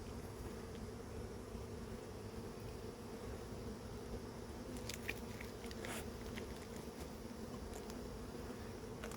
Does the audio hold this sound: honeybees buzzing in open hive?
yes